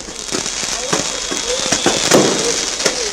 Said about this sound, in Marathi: फटाक्यांची आतषबाजी करत वेगवेगळ्या ठिकाणी रोषणाई करत ही दिवाळी साजरी केली जाते